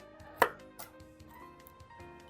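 Walnuts chopped with a knife on a board, one sharp close chop followed by a few softer scattered cuts.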